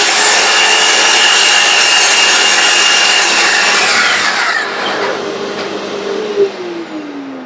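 A power tool cutting wood for a box, a loud close steady whine and rasp that cuts off and winds down with a descending tone, followed by quieter handling noises.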